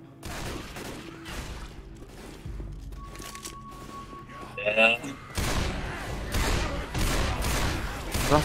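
Bursts of rapid gunfire from a zombie shooting video game, with thuds and booms, loud and close, under an ongoing noisy mix.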